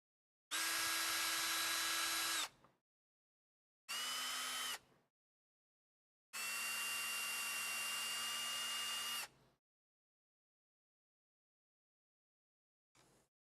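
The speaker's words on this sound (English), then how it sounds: "So we're going to drill through this hub as well." A power drill bores through a wheel hub on a UNIMOG model kit, making three loud whining bursts of roughly two, one and three seconds with short silent gaps between them, followed by a faint brief blip near the end. No one speaks.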